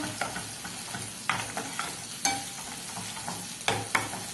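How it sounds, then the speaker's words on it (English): A spatula scrapes and stirs scrambled eggs continuously in a sizzling frying pan, with repeated sharp scrapes over a steady cooking hiss. "Do not stop your stirring motion."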